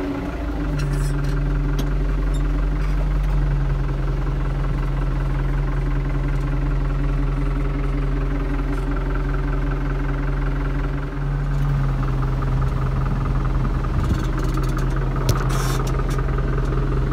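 Case JX110 or New Holland TD90D tractor engine running while stuck in mud, a loud steady low rumble with a constant drone and slight variations, no speech.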